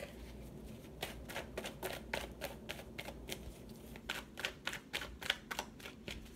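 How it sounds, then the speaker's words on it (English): A deck of tarot cards riffles and taps in quick rapid bursts, close and fairly quiet, with short pauses between shuffles. "let's shuffle and let's pull the rest of the cards"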